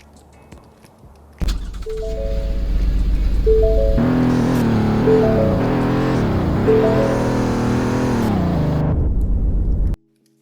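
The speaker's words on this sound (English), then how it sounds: "let's see how this thing sounds and test it out on the road." A Roblox Greenville family car engine starts up and drones with a buzzy whine, rising and falling in pitch as it accelerates, then cuts off abruptly.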